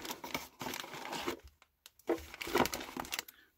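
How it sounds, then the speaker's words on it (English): Small white wax-paper bags crinkling and rustling close to the microphone while action figures are unpacked, irregular bursts of crackle with brief pauses between handling movements. "Pardon the noise, I know it crinkles on the microphone."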